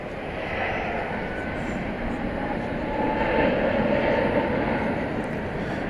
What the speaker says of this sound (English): Airbus A321neo, flight 1647 off to Las Vegas